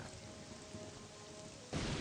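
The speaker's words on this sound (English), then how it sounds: "The incessant banging and crashing of the thunder does not help" Steady rain from the game Morrowind falls through the whole stretch, with a sudden louder surge of broadband rumble near the end like a thunder crash, all fairly faint and without voices.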